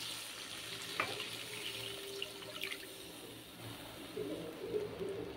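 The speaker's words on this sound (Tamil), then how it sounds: "புளி கரைசலை விட்டுருவோம்." Tamarind extract poured into a hot pan makes a soft, continuous hiss and sizzle with faint watery splashing, moderately quiet and without any talk.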